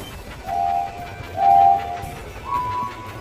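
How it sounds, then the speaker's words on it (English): Three short, faint whistle toots sound one after another over a low rumbling background, from a train running along its tracks in a video game. "Swipe left or right to keep the train on the tracks."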